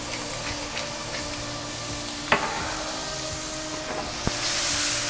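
Shrimp seasoned with kosher salt and black pepper sear in a hot pan, giving a steady, close, even sizzle throughout with a couple of brief sharp pops and clinks, no talking.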